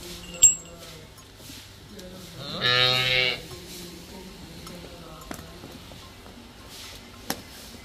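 A calf or cow moos once on a dairy farm where cows and buffalo are kept for sale, a close drawn-out call amid faint farmyard knocks.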